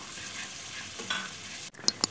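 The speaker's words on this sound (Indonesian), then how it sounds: "Ini sekarang saya lagi mau numis bawang bombay" Chopped onion and garlic sautéing in a pan, a steady close sizzle with stirring throughout, ending in a few sharper clinks near the end.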